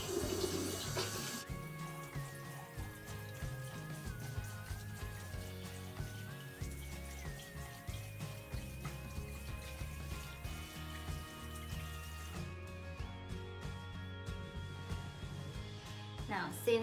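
Tap water runs steadily into a bathroom sink during a skincare face rinse, a continuous close splash with shifting tone, while soft music-like tones play underneath.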